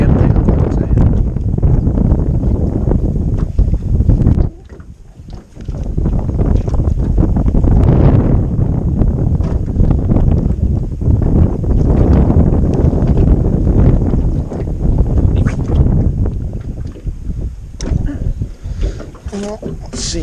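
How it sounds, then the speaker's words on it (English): Strong wind roars across a lake during a fishing outing, buffeting the microphone with loud, continuous low rumbling and gusts that swell and briefly drop, with a person talking under the noise. "Windy as hell, you guys probably can't hear a damn thing I'm fucking saying."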